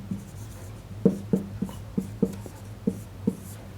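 A pen or marker writes Java code during a lesson, several short scratchy strokes in quick irregular bursts, close and quiet against a faint background hum.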